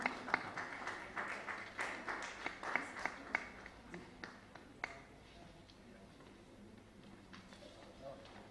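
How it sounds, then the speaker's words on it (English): Audience applause at a Rotary Club of Imphal awards and charter day ceremony: a crowd claps in a quick, dense patter that fades away after about five seconds, with voices murmuring underneath. "Please give a big round of applause for Thaunawsam Bipin Singh."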